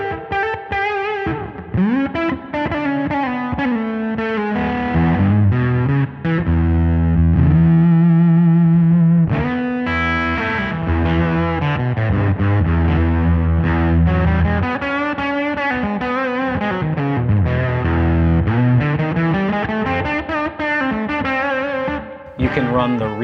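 An electric guitar plays through a Fender Jack White Pano Verb amp, loud and steady, with a distorted, effects-laden tone, chords and sustained notes ringing with reverb throughout.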